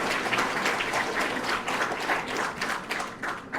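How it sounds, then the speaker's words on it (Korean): A crowd at a political event applauds steadily, a dense patter of many hands clapping at once, fairly distant and sustained throughout. "힘찬 박수를 도와주시기 바랍니다."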